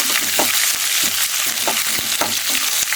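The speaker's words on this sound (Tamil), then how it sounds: "இப்போது வெங்காயத்தை போட்டுருணும்." Onion frying in hot oil with mustard seeds, lentils and broken dried chillies, crackling loudly and close, with rhythmic stirring scrapes repeating roughly every half second.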